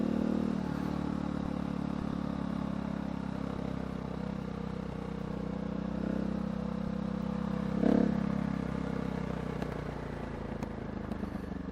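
A KTM 690 SMCR motorcycle rides on a gravel road, its engine giving a steady continuous drone with a faint rise in revs midway, steady and close, with no talking.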